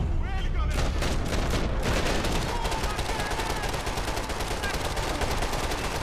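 Rapid, dense gunfire from the Max Payne 3 video game at an airport, continuous bursts of automatic shots with loud booming reports filling the whole stretch, a voice faintly underneath.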